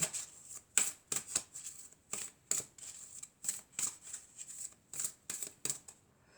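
Oracle cards are shuffled by hand in quick, crisp riffles and slaps, about a dozen separate bursts in an uneven rhythm, close by and quiet, with no talking.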